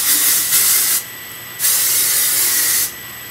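Not Your Mother She's a Tease volumizing hairspray hisses from an aerosol can in three close, loud bursts, two quick ones followed by a longer sustained spray, with no talking.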